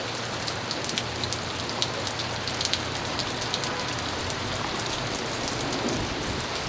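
Steady heavy rain pours down during a tornado storm near Pawhuska, a dense continuous hiss of drops hitting surfaces, with no voices.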